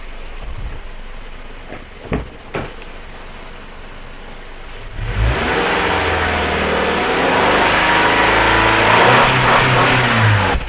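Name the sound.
car engine revving up to the rev limiter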